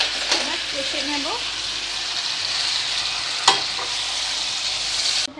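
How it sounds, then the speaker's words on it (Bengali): Marinated chicken is stirred and fried in a pan for biryani, a close, continuous loud sizzle with a few scraping strokes and one sharp knock, with a voice talking briefly at the start. "ম্যারিনেট করে রাখা ছিল চিকেনটাকে, এটাকে আমি পুরোটা দিয়ে দিচ্ছি। দেখো, এটা দিয়ে আমি ভালো করে এটাকে এবার কষে নেব।"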